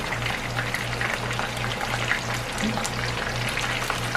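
Hard taco shells fry and pop in a pan of hot oil, a steady close sizzle with scattered crackles running throughout, no talking.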